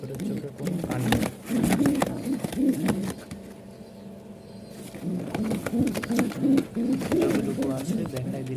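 Pet pigeons at a Mirpur-1, Dhaka seller's, including Giribaz birds, coo in repeated low throaty bursts up close, pausing briefly midway before the cooing resumes with soft knocks and rustles.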